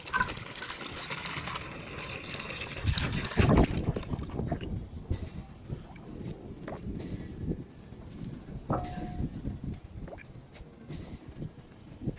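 Hot boiling water poured onto rusty antique brass, a close gushing splash that peaks early, then gives way to trickling, dripping and small knocks.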